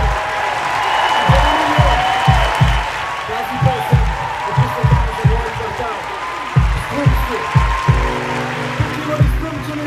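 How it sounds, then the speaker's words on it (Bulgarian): Applause from a Christmas concert audience welcoming a performer, heard under loud bass-heavy music with rhythmic beats and a voice over the top. "Молим вашите силни аплодисменти за един изключително талантлив млад човек."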